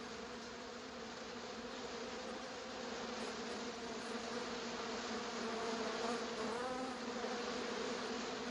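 A dense swarm of bees buzzes from a Family Guy cartoon, a loud, continuous droning hum that swells slightly and persists without break, with no talk over it.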